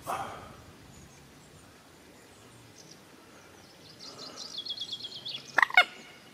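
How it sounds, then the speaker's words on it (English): Quiet outdoor ambience by a small jetty over water at Burton Springs, Somerset, then a loud, rapid burst of calls from a small bird near the end, a warbling trill followed by two sharp, piercing notes close by. "It's a big noise for such a little bird."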